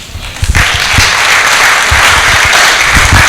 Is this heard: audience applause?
yes